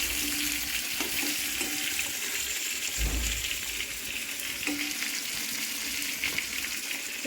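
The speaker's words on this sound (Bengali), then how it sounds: "আমি মাছটা ভেজে দিচ্ছি, মাছটা ভাজতে ভাজতে শেষ করবো" Fish frying in a pan gives off a steady, close sizzle and crackle of hot oil, with a few soft knocks and no talk.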